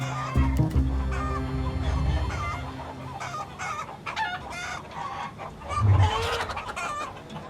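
Several hens cluck and squawk close by in a busy, overlapping chatter, with a louder low cluck near the end.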